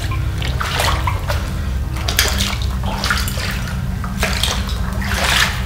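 Continuous splashing and sloshing water with repeated surges, like someone wading step by step through shallow water in an abandoned mine, close by and fairly loud.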